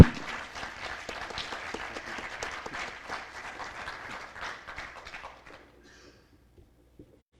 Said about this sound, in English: So if you clap for anyone, let's clap for Elise.